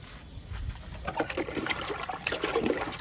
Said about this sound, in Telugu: ఈ మొక్క కూడా ఇచ్చేద్దాము లిక్విడ్